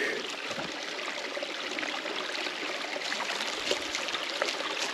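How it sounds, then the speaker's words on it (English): A small creek at a forest campground flows in a steady, close rushing trickle that holds even throughout, with no voices. "There's a little creek."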